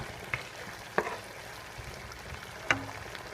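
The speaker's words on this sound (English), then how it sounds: "I'm just going to let this simmer for about 5 minutes or so" Bulgar wheat with coconut milk simmering in a pot, a quiet steady bubbling and hiss with a few soft pops and clinks close by, no talking.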